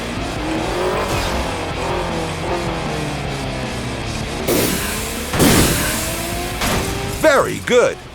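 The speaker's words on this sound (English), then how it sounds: "The radar will help you to see if an opponent is at the right distance to have to drive over the spike strip." In the racing game Crash Time 5, engines drone and rise as cars chase on the road, then tires squeal and skid in loud bursts near the end, mixed with game effects; a voice talks over part of it.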